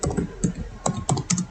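Typing on a computer keyboard while entering database table data: a rapid, steady run of close, crisp key clicks, about a dozen strokes in quick succession, with no voice over them.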